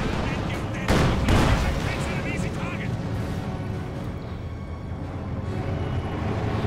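Rockets and gunfire hit a T-70 tank in the Company of Heroes 2 battle game, a loud burst of explosive impacts followed by rumbling combat noise and scattered shots, with a commentator talking over it.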